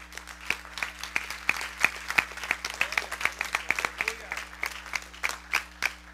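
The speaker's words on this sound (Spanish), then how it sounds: "Denle un aplauso al Señor" Scattered, uneven hand claps from a church congregation at a Spanish-language service, sharp individual claps close by over a steady low hum, fairly light and not a full ovation.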